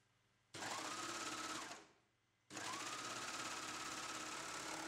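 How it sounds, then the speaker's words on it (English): An overlocker stitches fabric in two loud, even bursts of rapid whirring, the first winding down after about a second, then a short pause before it starts again and runs steadily to the end. "An overlocker copes with all sorts of fabrics with no adjustment."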